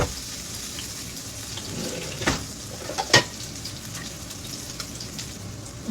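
A pan sautéing the base for lime leaf rice gives a low, steady sizzle, with a few sharp clinks and scrapes of a utensil near the middle.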